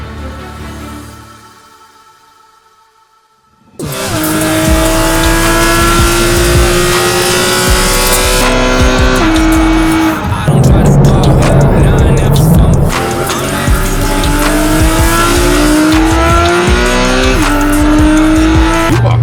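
Race cars launching at the start of a season-opening race weekend: after a quiet lull, a loud wall of engines roars in, with revving, rising gear changes, and tyre squeal from several cars close by.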